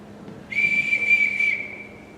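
A single shrill whistle blast summons a household, sustained for about a second and close, with no talk over it.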